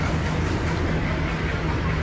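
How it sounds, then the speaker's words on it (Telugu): Nagarsol to Narsapur superfast express standing at a station platform, a steady loud rumble of idling locomotive and carriage machinery with no distinct events, no speech. "మనం మనల్ని తీసుకెళ్ళబోయే ట్రైన్ ఇది నాగర్ నుండి నర్సాపురం నర్సాపూర్ ఎక్స్ప్రెస్"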